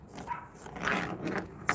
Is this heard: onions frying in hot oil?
no